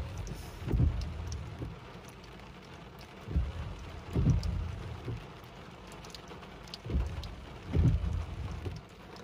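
Heavy spring rain pours steadily during a thunderstorm in Big Bear, and low thunder rumbles swell and fade several times through the steady hiss.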